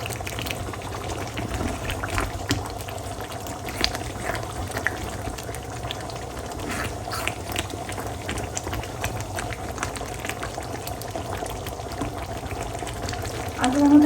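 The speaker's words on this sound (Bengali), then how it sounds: "রোস্টটা কেমন হচ্ছে সবাই বলবেন তো" A roast dish cooks in a pan with a continuous bubbling, sizzling simmer at moderate level, close by and steady throughout.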